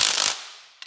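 Ratchet socket wrench clicking fast and close during a Mopar alternator pulley swap, a dense burst of clicks for about a third of a second, then a fading tail and one short faint click near the end.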